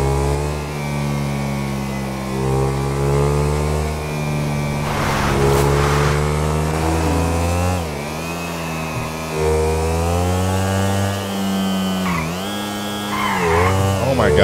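A Ducati Desmosedici GP motorbike in GTA 5 roars loudly and continuously, its engine pitch climbing and dropping repeatedly through gear changes and throttle blips, with a brief burst of noise partway through.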